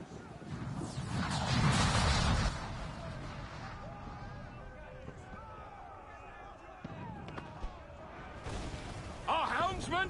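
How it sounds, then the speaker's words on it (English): Ship cannons boom in a naval battle in Assassin's Creed Black Flag, a heavy burst of blasts and crashing early, then scattered thuds and creaks with shouting voices over the fighting. "Man the cannons!"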